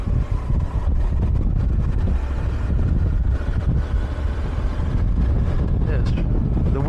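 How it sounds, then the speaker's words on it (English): Strong gusty wind buffets the microphone on a quiet country road, a loud continuous low rumble that fills the whole stretch without letup. "The wind is really strong."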